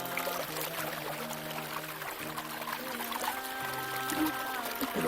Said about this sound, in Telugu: కోనల నుండి వచ్చేటువంటి స్వచ్ఛమైనటువంటి వాటర్.